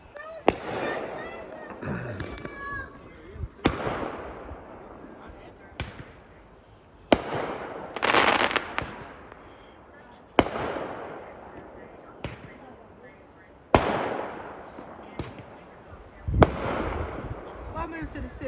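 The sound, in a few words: New Year's Eve fireworks exploding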